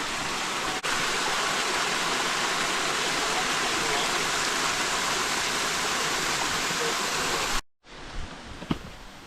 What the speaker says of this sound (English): There's another little waterfall here, which is pretty cool.